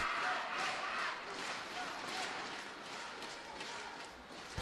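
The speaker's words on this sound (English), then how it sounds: "Packed crowd in here this afternoon. It's creating a wonderful atmosphere." Packed arena crowd at a 2012 Korea Super Series badminton men's doubles final, a dense, steady roar of cheering and chatter filling the hall throughout, swelling slightly at the start and end.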